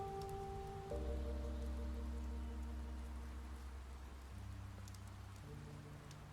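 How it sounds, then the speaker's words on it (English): Soft, steady rain patters throughout under a low sustained musical drone in the video game The Wolf Among Us, with no talking. "Oh, and it starts raining too."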